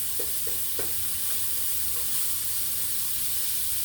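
Chipped beef fries in a pan with a steady, even sizzle while a utensil stirs and breaks it up, making a few soft scraping taps early on, close by and with no voices.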